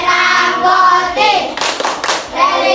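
Children performing the PPK clapping chant in a classroom, a few sharp rhythmic hand claps between stretches of sung chanting voices, close and fairly loud.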